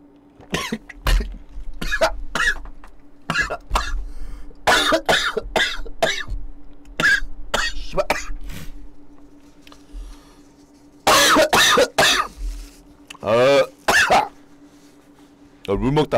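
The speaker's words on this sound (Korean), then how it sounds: "물 마시다가 기침 나왔어." A man coughs repeatedly after choking on water, with harsh, close coughs and throat clearing coming in bursts and a loud cluster near the end.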